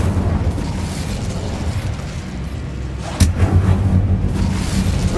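The Incendio fire spell from Hogwarts Legacy goes off in the game with a sudden bursting whoosh, after which a thick fiery roar continues over a busy low rumble.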